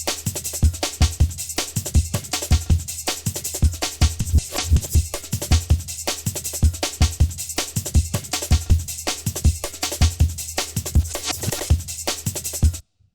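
A break and a second layered break running together in FL Studio for a jungle/DnB tune, a dense, fast rolling groove of thick kicks, sharp snares and constant bright hats, loud and continuous, stopping sharply at the end.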